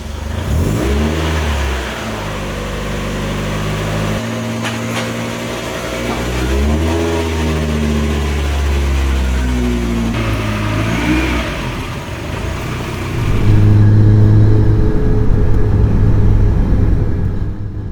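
A Mazda MX-5 Miata engine revs up and down close by in repeated rising and falling sweeps, then settles into a deep, louder rumble near the end.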